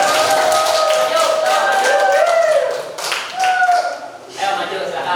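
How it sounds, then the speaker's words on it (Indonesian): Students in a classroom clap for group 4, scattered, uneven claps mixed with a teacher's voice that dominates at first, the clapping surfacing more clearly toward the end. "Tepuk tangan dulu buat kelompok 4."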